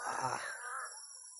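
A crow gives one drawn-out, harsh caw that trails off over about a second, loud and near, with no other voices.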